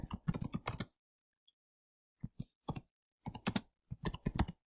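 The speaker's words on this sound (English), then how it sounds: "Hit enter and type the date." Typing on a computer keyboard while writing a personal business letter, quick bursts of close, crisp key clicks separated by short pauses.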